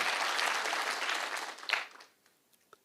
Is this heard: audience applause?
yes